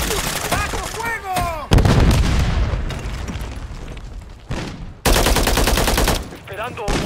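Rapid automatic gunfire in Call of Duty MW2 during a Hardpoint match, loud bursts of repeated shots with booming impacts, pausing briefly before another heavy volley, with game voice callouts in between.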